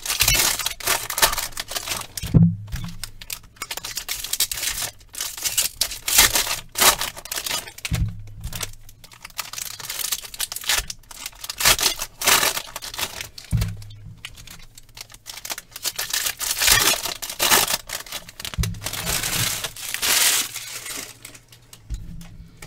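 Baseball card packs from a 2019 Bowman Draft jumbo box being torn open, a steady run of close crinkling, tearing and rustling foil wrappers with short sharp rips recurring every few seconds, no talking.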